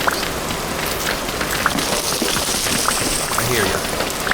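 Hard rain pours in the block-building survival game Vintage Story, a dense, loud, continuous hiss of drops on surfaces with scattered sharper patters, steady from start to finish.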